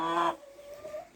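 Laying hens cluck in a short burst near the start, then a softer, steadier hen call continues faintly through the rest of the moment.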